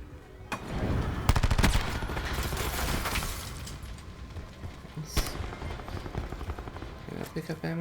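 Burst-fire shots from the Heatwave Ultra weapon in a shooter video game, several sharp reports spread over a busy, mid-level game soundscape with a distinct shot near the end.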